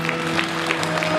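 Wedding guests at a ceremony applaud the bride's father, a brief, moderately loud burst of clapping under a faint steady hum.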